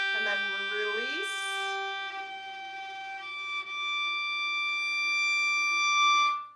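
A single sustained viola note, at first pressed with a weighted finger and then eased off until it turns into a harmonic. The pitch slides and bends early on, then settles into a steady, bright, ringing tone for several seconds.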